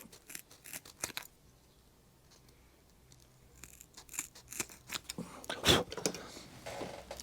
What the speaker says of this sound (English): we're going to get our scissors, and all we're going to do is we're just going to trim off a hair's breadth off of the bottom